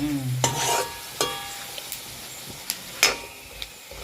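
Onions and green chillies for a Jaffna-style squid curry fry in a pan, and sharp scraping stirs cut in over a faint, steady sizzle at an irregular rhythm. No voices.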